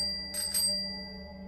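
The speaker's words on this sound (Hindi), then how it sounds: "घर के बाहर उस एटलस साइकिल की घंटी फिर से बजने लगी" A bicycle bell on an Atlas bicycle outside a house rings twice in quick succession, two bright metallic dings standing alone over a steady low hum.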